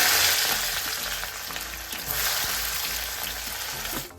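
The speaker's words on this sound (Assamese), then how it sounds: "এতিয়া লৰাই লৰাই ভাজি থাকিম" Onions sizzle and crackle steadily in hot oil, with occasional scraping and stirring sounds from a spatula in the pan.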